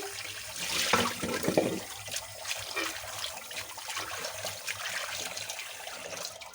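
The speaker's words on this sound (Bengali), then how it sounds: "মাছগুলো রান্না করার জন্য উপযোগী হয়ে গেছে দেখুন ধুয়ে নিচ্ছি" Water runs steadily from a tap while cleaned stinging catfish are rinsed, a moderate, continuous splashing and trickling with a somewhat stronger gush near the start.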